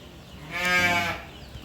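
Single close bellowing moo from cattle at the Bishkek livestock bazaar, one drawn-out call rising and fading over about half a second against low background noise.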